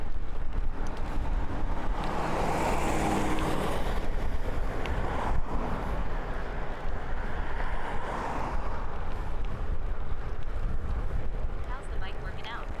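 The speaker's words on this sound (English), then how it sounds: "It's actually pretty windy" Strong wind roars across the microphone throughout a bike commute, a constant heavy rumble with gusts swelling and easing, with a voice talking faintly beneath it.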